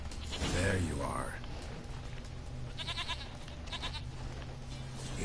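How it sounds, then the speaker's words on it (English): Goat bleating in the video game Witcher 3, one drawn-out wavering bleat near the start followed by creaking game sounds, with a person talking over it. "Here, goat. Oh, it's called Princess."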